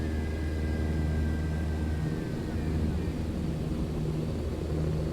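An airplane engine in Microsoft Flight Simulator on a Houston to Dallas flight, giving a constant loud, low drone with a faint whistling tone gliding through it early on.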